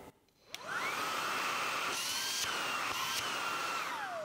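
A household vacuum cleaner switched up to turbo mode, its motor whining steadily and loudly close by after a brief quiet start, with slight pitch shifts as the suction tube moves.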